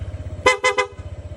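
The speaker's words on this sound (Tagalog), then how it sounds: "Tapos, ito naman yung busina." Three short, bright horn toots in quick succession from a motorcycle, nearby, over a steady idling engine rumble.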